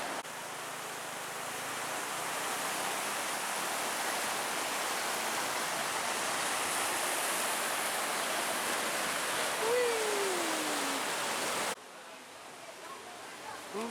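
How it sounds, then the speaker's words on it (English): Steady roar of the large waterfall at Edessa, Greece: a continuous broadband rush of falling water heard close and loud, cutting briefly to a quieter ambience near the end. "I'm at Edessa, which has the largest waterfall in Greece."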